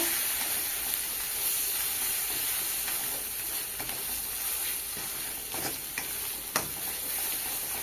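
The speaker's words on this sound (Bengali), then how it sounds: "দিয়ে ভালোভাবে কষিয়ে নেব" Turmeric, chilli and roasted cumin powders sauté in a pan for egg potato curry, a continuous soft sizzle broken by scraping stirs and occasional ticks of the spoon, with no voices.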